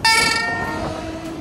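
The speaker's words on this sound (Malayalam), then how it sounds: "ഇതുണ്ടൊരു പുത്തൻ മെമു ഉണ്ടോ, 2023 ബിൽറ്റ് സാധനമാണ് കേട്ടോ, ഫ്രഷ് സാധനം." A new 2023-built three-phase MEMU electric suburban train at a station near Perambur Carriage Works, Chennai, sounds a loud, sustained horn blast that holds steadily across the short moment, close by.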